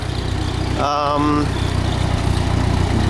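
An early-1940s Ford 9N tractor engine idles with a steady, low, throbbing putter, close by; a voice briefly speaks over it partway through.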